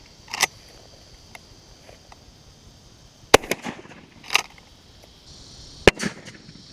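Shotgun loaded with buckshot fired at two sheets of plywood, several sharp loud reports spaced irregularly with short tails, plus fainter clicks between them, outdoors and close.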